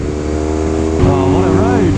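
A KTM motorcycle accelerates away, its engine note jumping and climbing in pitch about halfway through over loud continuous engine and wind noise, while a rider talks over it.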